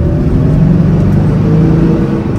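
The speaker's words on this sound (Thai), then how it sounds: "กดคันเร่งดู" Toyota Vigo pickup with a 1KD diesel engine, suffering a P0093 fuel fault and stalling, revs loudly and steadily up close, a low rumbling drone that rises and holds.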